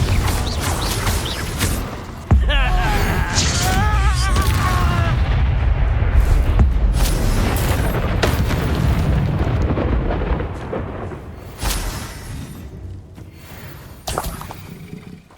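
Spell-casting blasts in the Hogwarts Legacy game, fire and explosive curses going off in loud booming bursts, a sharp onset near the start followed by sustained rumbling impacts and later bursts over busy game noise.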